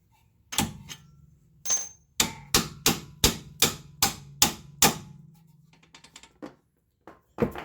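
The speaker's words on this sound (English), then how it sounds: "if you're careful, you can use a hammer to remove them." Loud metallic hammer blows strike a car suspension knuckle close by, a quick run of about eight evenly spaced hits after a couple of single taps, then a final strike.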